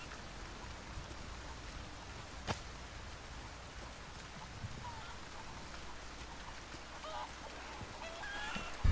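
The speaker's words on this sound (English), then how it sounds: "It's a chicken. Chickens with eggs." Chickens cluck in the video game Resident Evil 4, faint and scattered over a steady rain-like hiss with a few brief louder knocks.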